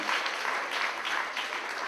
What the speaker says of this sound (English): Give the Lord a mighty clap of it.